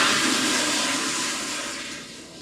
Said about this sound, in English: Ryan is flushing the toilet.